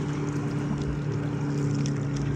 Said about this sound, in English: Here come the waves.